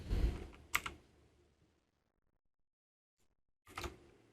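Python code being typed on a computer keyboard: a couple of short bursts of crisp keystrokes up close, separated by a stretch of near silence.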